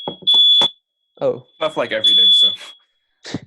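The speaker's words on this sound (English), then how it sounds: "That's my fire alarm." A smoke-style fire alarm sounds in loud, steady high-pitched beeps that cut across and between people talking nearby.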